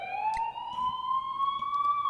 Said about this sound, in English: Why is there an ambulance here?